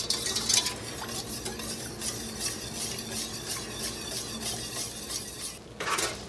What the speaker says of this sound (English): I'm going to continue to stir this till it thickens up again.